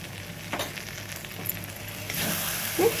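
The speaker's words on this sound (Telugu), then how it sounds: "ఈ ముద్దంతా బాగా ఫ్రై అయిపోయింది కదా" A spice paste with salt and chili powder fries in a pan, a steady close sizzle with occasional stirring scrapes that swell into a brighter hiss toward the end.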